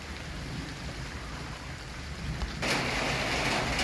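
Steady rain hiss over open rice fields in a summer rainstorm, growing noticeably heavier and brighter near the end, a dense continuous wash with no voices.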